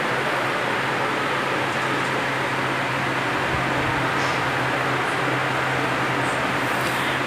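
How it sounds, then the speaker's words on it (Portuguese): A steady electric fan whirs in a room, producing an even broadband hiss with a faint low hum that continues unchanged throughout, with no talking. "não tô ouvindo nada por conta desse ventilador"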